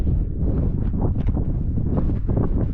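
Strong wind buffeting the microphone on an open coastal hilltop on the North Exmoor coast path, a loud continuous roaring rumble with gusty swells and no voices.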